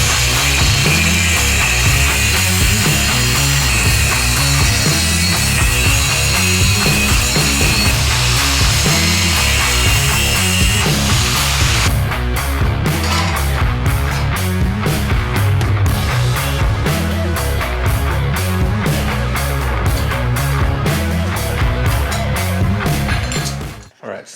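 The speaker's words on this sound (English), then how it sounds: "You can always grind it out more though, so." Grinding a steel exhaust pipe for a custom H-pipe and 3-inch dual exhaust on a 1998 Vortec truck: a loud, continuous abrasive whine lasts throughout, turning into rapid pulsing chatter in the second half, then stopping abruptly at the end.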